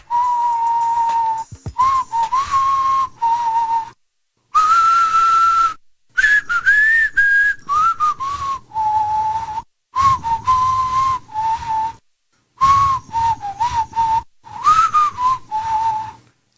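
A person whistles a tune alone, in clear melodic phrases broken by short pauses, close and fairly loud, with no talking.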